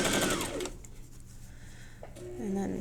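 A sewing machine back stitches quilt strips, giving a close, quick mechanical whir at the start, a short pause, then another burst, with talking around it.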